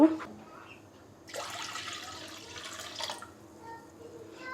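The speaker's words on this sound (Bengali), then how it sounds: "প্রথমে আমি এখানে দুই কাপ পরিমাণ পানি দিয়ে দিব" Two cups of water poured into a pot for a spicy pitha batter, a mid-level splashing rush lasting about two seconds that then thins into faint trickling under a quiet room hum.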